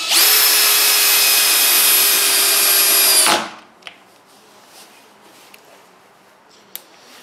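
An 18V cordless drill driver at torque setting 13 drives a screw with a loud steady whine for about three seconds, then stops, followed by a few faint clicks and handling taps.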